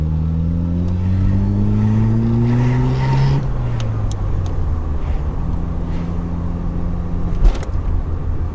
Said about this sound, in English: You can hear the gearbox whine as well when you lift off.